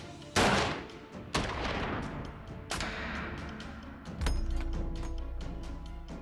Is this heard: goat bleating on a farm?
no